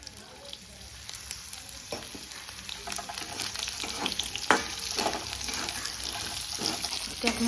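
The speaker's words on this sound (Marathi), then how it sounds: "आता हे खोबरं भाजून घेऊ, तळून घेऊ तेल टाकून." Grated coconut fries in hot oil with a continuous, low sizzle, while soft occasional scrapes and clicks of stirring sound close by and no one speaks.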